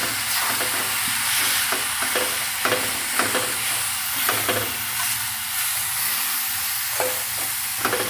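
Amla, ginger and chili pickle mixture stirred in a hot pan, with a constant sizzle and regular spoon scrapes and knocks at a steady rhythm.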